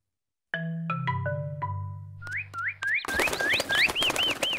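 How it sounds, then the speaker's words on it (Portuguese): Cartoon birds in Peppa Pig chirp in a quick series of bright rising whistles, following a string of plucked descending musical notes, near and clear with no talk. "Olha, os passarinhos voltaram."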